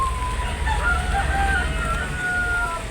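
A rooster crows in a long drawn-out call, somewhat distant, over a steady low rumble of background noise.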